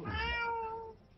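A single cat meow indoors, a clear tonal call lasting about a second that fades at the end, fairly quiet and alone.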